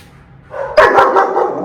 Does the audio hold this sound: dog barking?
yes